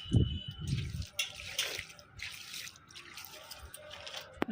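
Water poured onto potting mix of soil and cocopeat trickles and drips in short bursts, with a low thump at the start and quiet splashing that fades in and out.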